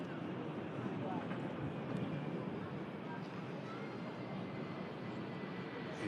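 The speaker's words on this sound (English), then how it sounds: "I'll keep quiet while these beautiful RB211s cruise past us" An aircraft powered by Rolls-Royce RB211 engines cruises past, a steady broadband roar heard from a distance that holds evenly for several seconds, with some wind noise.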